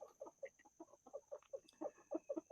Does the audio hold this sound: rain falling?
no